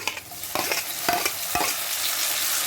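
A tomato goes into hot oil with frying curry leaves for a fish dish, bringing a loud, steady sizzle and a few clinks and scrapes of a spoon stirring the pan, no talk.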